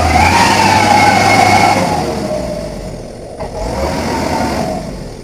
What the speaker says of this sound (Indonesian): Suara mesin terus menderu.